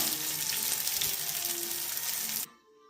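Tamarind gravy mixture for dried anchovy curry hits a hot pan with a loud, steady, hissing sizzle close by, which cuts off abruptly near the end and leaves only faint background noise.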